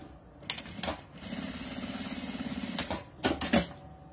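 Sewing machine stitching fabric near the mic, one short burst of rapid, even needle clatter lasting just over a second, framed by soft handling clicks and rustles of the material.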